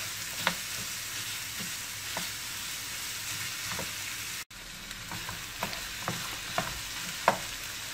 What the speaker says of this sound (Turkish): Etimizle soğanımız güzelce kavrulsun.